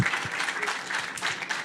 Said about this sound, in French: on peut vous applaudir parce que nous, on est très fiers de vous